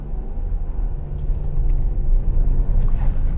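A car pulling away in Sport mode with the air conditioning off, a low engine rumble building steadily as it accelerates, close and continuous with no talk.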